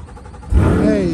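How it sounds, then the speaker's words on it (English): A car's engine cranks and fires up at about the half-second mark, settling into a loud, rumbling exhaust note with a rising rev after near-silent background. "I did want to maybe start this car up for you while I had the key"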